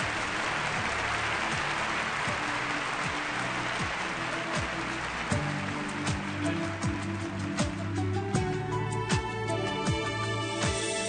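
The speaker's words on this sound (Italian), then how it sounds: "un bel applauso" Audience applause at an Italian music show with an orchestra, a broad clapping wash that thins into scattered claps as music begins to come through.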